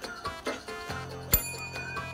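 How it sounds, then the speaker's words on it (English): A bell is rung hesitantly during a Disney trivia game show, with several light metallic dings and one sharper strike ringing out with decaying tones. "That was a tentative bell, too."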